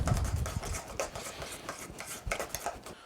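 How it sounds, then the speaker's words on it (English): A small spoon scrapes and taps quickly in a bowl while whisking cream cheese coffee cake batter, giving close, irregular scraping strokes with no talking. "Let's use the smaller spoon. Help us whisk it a little better."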